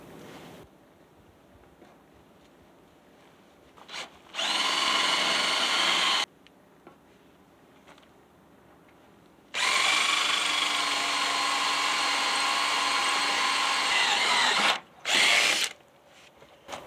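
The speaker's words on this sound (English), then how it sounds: "So once we drill through them and relieve the pressure, I think we can take a punch" Two loud, sustained bursts of a power drill grinding through metal rivets on a 1976 Ford F100, a short one then a longer one, separated by quiet pauses, close by.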